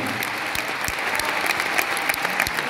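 An audience applauds sport aerobics athletes, among them world and Olympic champions, with steady, dense clapping throughout and a few sharper claps standing out nearby.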